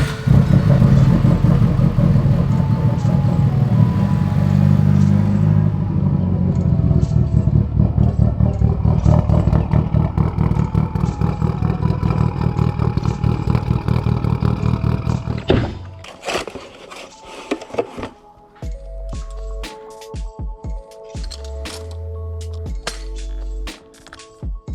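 Mitsubishi Evo 8 engine firing up after a long battery charge, settling into a loud, steady rumbling idle that dominates for about fifteen seconds before cutting to quieter, intermittent mechanical sounds.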